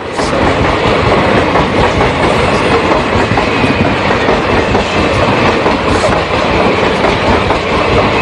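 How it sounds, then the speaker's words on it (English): A train passes close by, a loud continuous rumble with steady clickety-clack from railcar wheels filling the whole stretch, no voices over it. "Again, a train shakes the room so violently, she's pitched to the floor."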